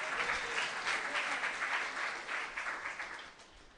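An audience at a spiritual discourse claps in a dense, steady burst that swells and then slowly thins out toward the end. No voices are heard.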